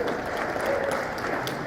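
Sustained audience applause in a hall, steady and fairly loud throughout with no pauses, a dense wash of clapping hands.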